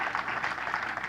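Brief burst of congregation clapping for the Lord during a church sermon, a dense rapid patter of many hands mixed with cheering voices.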